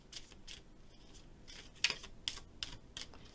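Oracle casting cards being shuffled by hand, a run of soft papery riffles and flicks with a few sharper snaps near the middle, close and fairly quiet with no voices.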